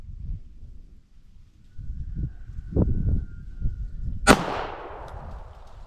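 A single sharp pistol report cracks out at a 25-yard range and rings off into a fading tail, set against steady wind and faint background rumble.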